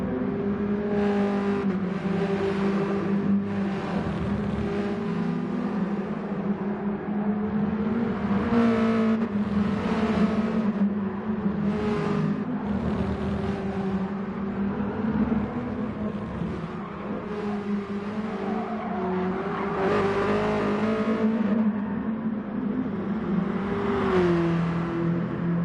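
BMW M3 race cars racing at Fuji circuit, with engines droning and rising through revs, several cars blending in a continuous roar that swells and fades as they pass at mid distance.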